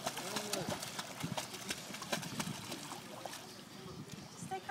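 A frightened dog paddles and kicks in a swimming pool, producing steady light splashing and sloshing of water close by, with people's voices talking throughout.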